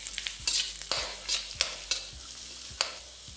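Onion, carrot and beans fry in a pan with a steady sizzle, punctuated by repeated sharp scrapes and clacks of stirring, close and alone without any voices.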